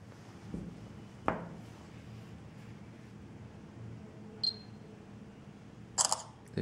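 Galaxy Note GT phone camera shutter in a quiet room, a few faint, brief clicks spaced across the clip over low background hiss, with no talk.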